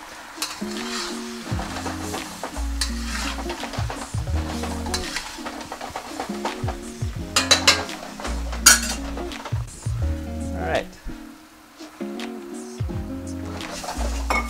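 Food sizzles in a hot wok during beef chow fun stir-frying while a metal utensil scrapes and clinks against the pan in an irregular stirring rhythm, close up.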